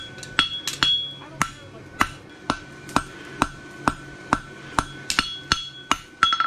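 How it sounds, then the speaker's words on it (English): A hammer strikes a horseshoe branch on an anvil while forging a bar shoe, giving sharp ringing metallic blows in a steady rhythm about once every half second, close and loud. "Important to have your branch flat on the anvil when you're packing it"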